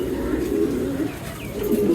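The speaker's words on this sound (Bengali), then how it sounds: "অনেক সুন্দর কবুতর" Pigeons of mixed breeds cooing in a loft, a continuous low warbling coo from several birds close by, steady and fairly loud throughout.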